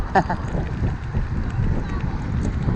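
Wind buffets a microphone while riding through Kuwait between Mahboula, Jaber Al Ali and Fintas, a steady low rumble with gusty swells throughout, and a voice briefly near the start.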